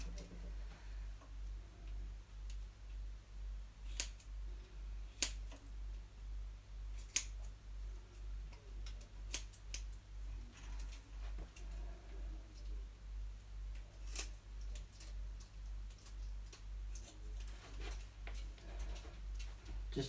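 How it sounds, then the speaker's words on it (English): Scissors trimming a dog's normal coat give sparse, sharp single snips spaced several seconds apart, faint and close, over a steady low electrical hum. "The only time I'll actually take the scissors out against the actual normal coat is when I can see exactly where I want to cut."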